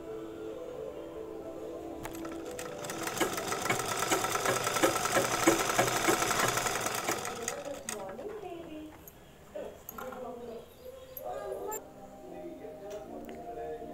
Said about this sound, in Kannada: ಎಡ್ಜು ಟೆನ್ಷನ್ ಮಾರ್ಜಿನಲ್ಲಿ ಸ್ಟಿಚಿಂಗ್ ಮಾಡ್ತಾಯಿದ್ದೀನಿ.